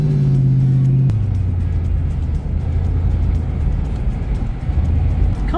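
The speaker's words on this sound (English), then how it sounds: "Let's hear those 180 ponies roar." A Foxbody Mustang's 180 hp engine roars loudly and close, opening with a rising rev that drops sharply, then settles into a steady, heavy low rumble with no voices.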